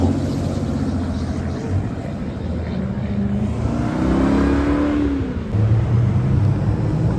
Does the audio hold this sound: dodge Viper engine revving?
yes